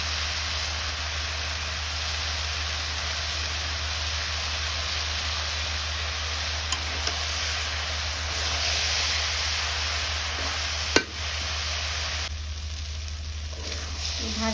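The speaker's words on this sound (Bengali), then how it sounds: "ভাজিটা হচ্ছে এরকম ঘন ঘন নেড়ে চেড়ে দিতে হবে" Cabbage and potato stir-fry cooking in a pan, a steady hissing sizzle with occasional stirring scrapes and a brief sharp knock, no speech.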